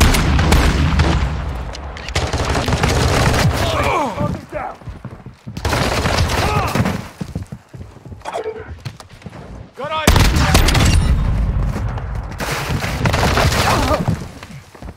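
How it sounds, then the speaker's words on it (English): A stun grenade goes off in a Call of Duty match, mixed into dense, loud bursts of rapid gunfire and booming blasts that keep coming for the whole stretch, with brief quieter gaps and some voices underneath. "Throwing a stun grenade."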